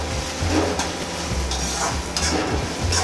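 Sprouted moth beans (matki) roast in oil in a pan, making a loud, continuous sizzle with scraping stirring strokes recurring throughout.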